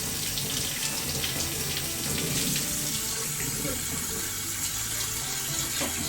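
Tap water runs steadily into a kitchen sink while food is rinsed, a continuous moderate splashing hiss with slight shifts in the flow and no clear talking.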